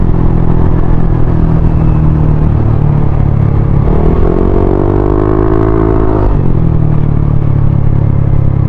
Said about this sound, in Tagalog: Okay naman yung andar ng NMAX, hindi naman siya nag-iba.